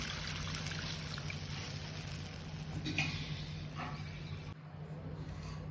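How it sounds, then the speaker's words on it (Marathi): Water poured into sautéed masala with chili and salt for a Maharashtrian besan curry, a steady close trickling rush that continues for several seconds and then thins. "त्याच्यात आपण पाणी ओतणार आहे"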